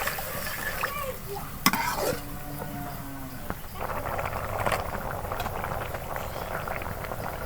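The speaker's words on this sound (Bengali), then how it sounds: "তো এখন তরকারিটা ফুটছে" A vegetable curry with eggplant bubbles and simmers in a pan with a soft, steady hiss, broken by a few clinks and clatters from a utensil, while a voice talks quietly underneath.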